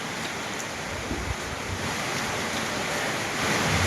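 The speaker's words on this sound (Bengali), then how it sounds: "ঝড় এবং বর্ষা একসাথেই" Strong Kalbaishakhi storm wind with rain thrashing mango and coconut trees, a steady loud broadband roar with gusts that swell toward the end, no voices.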